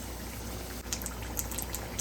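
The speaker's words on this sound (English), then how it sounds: "So now keep frying them until they turn a little golden brown." Oil sizzles and bubbles steadily with faint crackling pops as green chili fritters fry.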